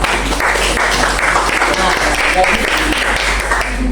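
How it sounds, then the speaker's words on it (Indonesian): Classroom applause from students during a lesson, a steady patter of clapping lasting a few seconds with a teacher's voice over it. "Tepuk tangan dulu"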